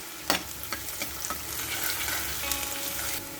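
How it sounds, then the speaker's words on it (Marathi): Finely chopped small onion sautéing in hot oil with curry leaves and garlic, a continuous close sizzle with a few sharp utensil scrapes and taps against the pan, no voices. "आता आपण घालतोय एक छोटा कांदा बारीक चिरलेला आणि हे छान परतून घ्यायचं आहे."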